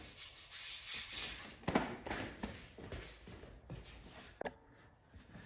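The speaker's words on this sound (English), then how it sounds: "this piece of sandpaper is pretty worn out" Hand sanding with a worn-out piece of sandpaper on filler patched into an arcade control panel, a series of uneven rubbing strokes with a few sharper scrapes, close and fairly quiet with no talking.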